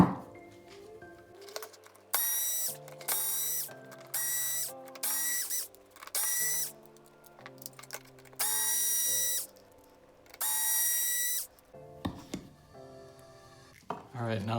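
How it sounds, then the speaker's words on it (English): Screws being driven out of a Slash 4x4 RC truck chassis with a power screwdriver, several separate whirring bursts of a second or two each, with pauses between them and quiet handling noise. "we need to take out the 2 screws here, and then these 5 screws"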